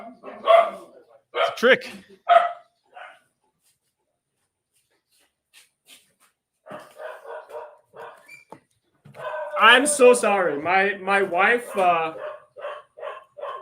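Several dogs bark at a package delivery, in loud bursts early on and again later, mixed with people talking nearby.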